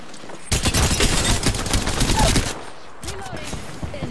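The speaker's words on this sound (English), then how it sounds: "They're shooting at me." Dense burst of enemy gunfire in a video game battle, rapid overlapping shots and automatic fire lasting about two seconds, then quieter scattered pops and a voice speaking briefly.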